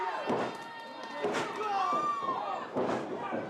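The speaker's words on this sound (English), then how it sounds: "Counters with a power bomb." During a wrestling match, one wrestler counters by power-bombing another, and several heavy thuds land on the ring mat amid crowd noise while a commentator talks over the action.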